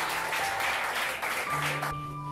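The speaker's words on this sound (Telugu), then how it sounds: "నాకు కాదు సార్కి కొట్టండి క్లాప్." A group of people clap for a teacher in a dense, even burst of applause that stops suddenly, leaving a faint hum.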